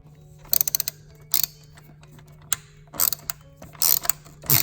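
A T25 Torx driver loosens screws on a BMW N54 blow-off valve sensor, making bursts of close, sharp ratcheting clicks separated by brief pauses over a steady low hum, with no voices.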